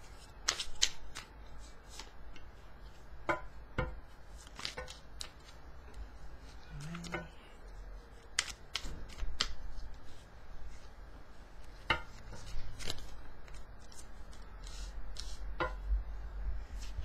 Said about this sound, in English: I go quiet whilst I'm shuffling, zoning in on the cards.